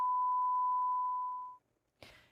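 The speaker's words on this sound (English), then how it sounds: "I love how they beep it" A steady, loud censorship bleep tone holds for about a second and a half, then cuts off, followed by a brief burst of speech.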